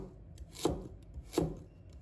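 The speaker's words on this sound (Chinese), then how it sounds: "然后切成薄片。" Kitchen knife slicing halved taro into thin slices on a cutting board: two distinct, fairly quiet cuts about three-quarters of a second apart, with no talking.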